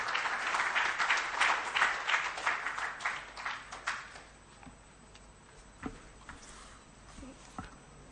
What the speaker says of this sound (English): with a hand of applause, let's welcome to the podium Honorable Isaac Adongo